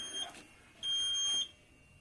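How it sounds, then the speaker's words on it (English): Inside an abandoned building, an alarm gives a short high electronic beep followed by a longer sustained tone, thin and piercing against a quiet room, with no voices. "What does that beep? An alarm?"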